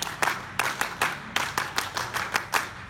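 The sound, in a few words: Scout double clap by children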